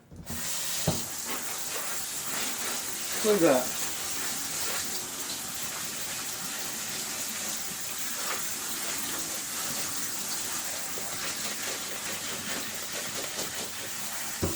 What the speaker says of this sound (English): we're going to go ahead and rinse them with cold water.